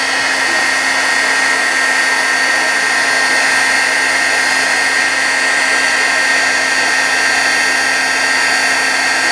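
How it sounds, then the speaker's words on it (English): A crafting embossing heat gun blows continuously to heat-set an embossed image, giving a loud, unbroken fan-like whoosh with a high whine, close to the microphone throughout. "So here's my embossing gun."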